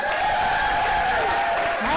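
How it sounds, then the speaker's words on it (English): Spectators at a climbing competition final cheering and clapping for the route setters: a short, continuous burst of crowd noise with sustained whooping tones. "can we have a big cheer for the route setters?"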